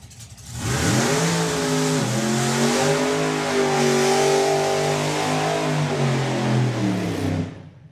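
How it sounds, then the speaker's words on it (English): A drag racing car does a burnout at a test day for sportsman drag racing, its engine revving up and holding a loud, sustained roar for several seconds before cutting off. "Good strong burn out there from Keith Freeman"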